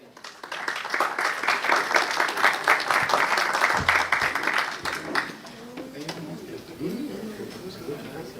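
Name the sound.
applause for the keynote speaker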